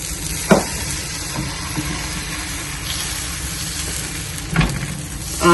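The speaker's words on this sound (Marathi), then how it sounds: "तुम्ही जेव्हा डोस्याचं पीठ या तव्यावर टाकता तेव्हा गॅस बारीकच ठेवायचा" A steady, close sizzle of dosa batter cooking on a hot tava over a low flame, with a couple of sharp clinks of a utensil against the pan.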